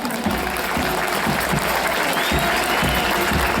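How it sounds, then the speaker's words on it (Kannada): Loud, dense applause from a large outdoor crowd at the Mysuru Dasara torch light parade, greeting a police band, steady clapping throughout with crowd noise beneath. "ಅಭೂತವಾದ ಬ್ಯಾಂಡ್ ತಂಡಕ್ಕೆ ಬರಲಿ ಒಂದು ಜೋರಾದ ಚಪ್ಪಾಳೆ"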